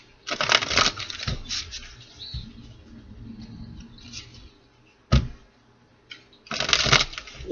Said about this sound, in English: One more shuffle for my Capricorns